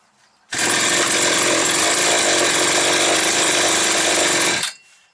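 A Chinese-made chainsaw engine catches and roars at a loud, steady idle for about four seconds, then cuts off abruptly.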